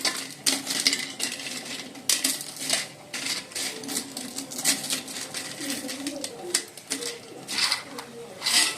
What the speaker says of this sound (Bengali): বড়িটা ভেজে রেখে দিয়েছি, গুঁড়িয়ে নিচ্ছি